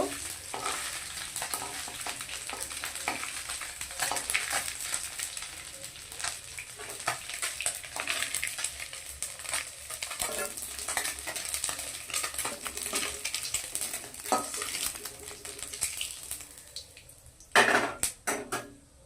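Small mourola fish fry in oil in a kitchen pan, a soft continuous sizzle broken by frequent metal utensil scrapes and stirring clinks, ending in a louder clatter as the fish are lifted out.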